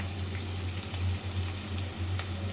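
Whole garam masala and green chillies fry in hot oil, giving a continuous low crackle and hiss with faint spits, steady and fairly quiet, with no voices.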